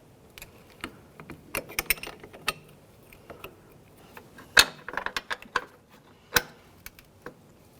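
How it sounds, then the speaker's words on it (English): An 11mm wrench tightens a front brake hose fitting on a 2010-2013 Ford Transit Connect, with sparse metallic clicks and ratchet-like ticks, a few sharper clanks, and quiet gaps between them. "continue on with your 11mm wrench and make sure they're nice and tight"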